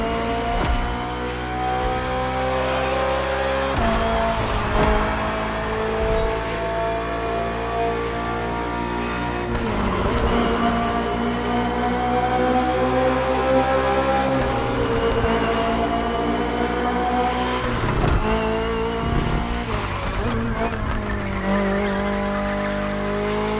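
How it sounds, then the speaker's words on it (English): The BMW M Hybrid V8 endurance race car screams through repeated high-revving gear changes in The Crew Motorfest, with tires squealing through corners and the engine note rising and falling over and over. "Finally, the BMW M Hybrid V8. What a beast."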